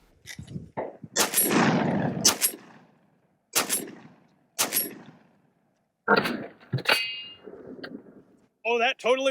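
A SPAS-12 semi-automatic shotgun loaded with real shotgun shells fires several loud, sharp blasts with gaps between them, each blast followed by metallic clanks and ringing.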